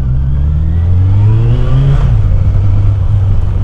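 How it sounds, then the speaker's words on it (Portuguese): A motorcycle fitted with a short sport exhaust revs loud and close, its deep, steady engine note swelling and dipping slightly. It is heard alone with no talk. "Já com esse escape aqui mais curto, ele não é tão barulhento e o som fica bem mais grave"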